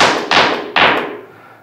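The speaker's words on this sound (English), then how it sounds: "And the clap sound sounds like this." FM drum synth clap on an Elektron Machinedrum, filtered by a running LFO; three sharp, noisy claps in quick succession, each decaying fast, close and alone.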